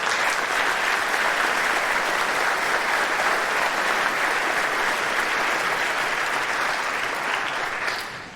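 Sustained applause from a ceremony audience, steady and dense throughout, with no talk over it, tapering off slightly at the very end.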